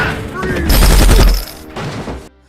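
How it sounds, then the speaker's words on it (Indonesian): Gunshots from the film The Hit, where a police officer shoots a man in the stomach: a loud burst of gunfire with heavy low booms in the middle, set against talk and tense film sound, ending abruptly. "Tiba-tiba datang satu polisi yang berhasil menembak perut Jonah."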